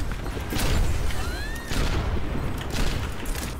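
Dense gunfire in the video game Overwatch, a loud continuous fusillade of shots with booming impacts filling the whole stretch, over a constant game soundscape.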